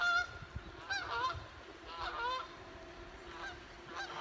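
Geese honk outdoors in short, repeated nasal calls, several overlapping bursts spread across a few seconds, moderately distant and faint over soft background noise.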